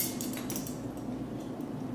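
Light metal clinks and scrapes of a tablespoon scooping soy lecithin powder for a raw vegan smoothie, soft and close, with a steady low hum underneath.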